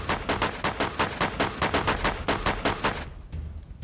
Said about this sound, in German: Ich hör grad die Schüsse schon bei dir.